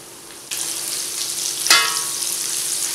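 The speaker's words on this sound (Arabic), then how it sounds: "توا باش نبدا نقلي كل كعبات نتاع الكفتة" Sardine kefta balls dropped into hot oil in a frying pan, with the sizzle jumping up suddenly, a second louder burst as more go in, then a steady close crackling fry.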